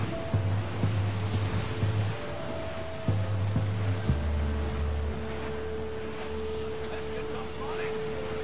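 Sailing ship cutting through ocean waves in Assassin's Creed 4 Black Flag, with steady surf and wash filling the scene, low rumbling hull noise and occasional creaks, continuous and fairly loud.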